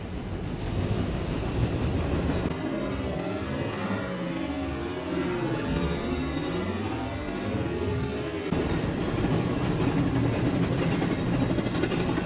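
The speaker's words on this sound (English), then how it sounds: "Let's spawn a train." A train in the Roblox game Trains vs Cars gives off a steady, loud rumbling roar with wind-like noise that runs unbroken for over ten seconds and shifts slightly partway through.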